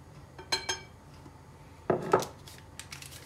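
Cake batter being stirred with utensils in a bowl as flour goes in bit by bit, a few light clinks and scrapes in two short clusters over a quiet background.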